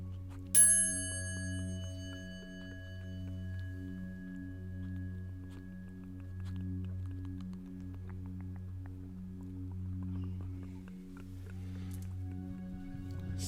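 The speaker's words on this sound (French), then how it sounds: "je vais inviter la cloche à sonner." A meditation bell is struck once, its bright ring fading slowly into a long, steady hum that carries on to the end.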